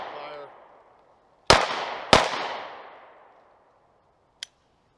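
Two sharp pistol shots roughly half a second apart during a basic handgun drill from a weaver stance, each loud with a ringing decay, followed by a faint click; a voice speaks briefly beforehand.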